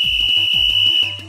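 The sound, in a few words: whistle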